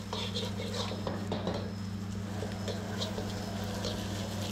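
Rice with shrimp paste and annatto is tossed and fried in a pan, giving faint clinks, scrapes and soft patter over a steady kitchen hum.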